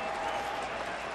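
Crowd at Miller Park for a Cubs–Brewers baseball game applauding and cheering steadily at a distance, with broadcast commentary running over it.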